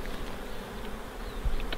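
Honey bees buzz around an open hive, a steady low insect drone running throughout with a few closer passes, no talking.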